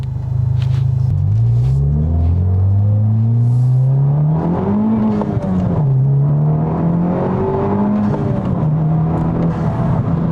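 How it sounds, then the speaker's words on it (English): A 2023 Honda Civic Type R with its exhaust valves open drives and accelerates through the gears, the engine note rising and dropping with shifts in a loud, steady in-cabin drone. "if I turn the valves on, you probably won't hear the intake"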